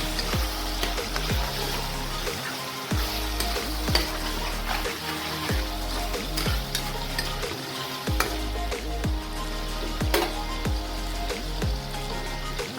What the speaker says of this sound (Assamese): এই পেষ্টখিনি দিয়াৰ পাছত মাংসখিনি পুনৰ ভাজিব লাগিব